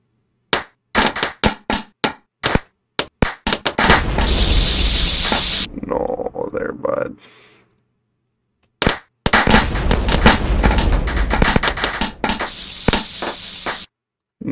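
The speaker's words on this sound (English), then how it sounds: "The explosions are so loud." Loud bursts of explosions and rapid cracking blasts, some in quick clusters, separated by brief silences and rumbling noisy stretches.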